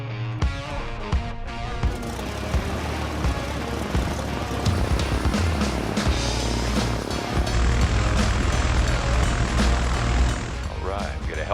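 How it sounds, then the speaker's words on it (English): Piper Cherokee propeller airplane, a 61-year-old previously crashed aircraft, with its engine droning steadily and building in power during takeoff roll, loud and close from inside the cabin, with voices over it. "we're gonna hop in the Cherokee, we're gonna go ahead and take off"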